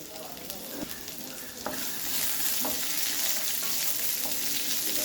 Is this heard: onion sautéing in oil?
yes